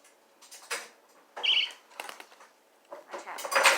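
Small pet birds in a cage playing and flapping their wings, quick soft bursts of fluttering with scratchy rustles, close and moderately loud, with brief gaps between.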